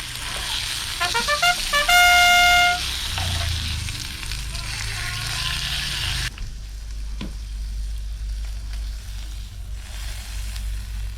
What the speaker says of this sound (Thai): ตอนนี้ก็ฟังเสียง ของหมูแดดเดียวนะฮะ